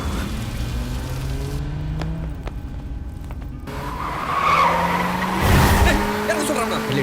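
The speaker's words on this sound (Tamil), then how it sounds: "இந்த காரை எடுத்து கொண்டு போ" A car pulls away and accelerates, its engine rising and tires scraping on the road in a dramatic film action scene, with a loud surge near the end over background music and rain-like noise.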